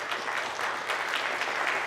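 An audience at a school board meeting gives a round of applause for the school counselors: steady, dense clapping from many hands throughout, with no talk.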